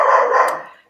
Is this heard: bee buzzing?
no